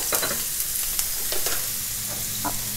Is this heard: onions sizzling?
yes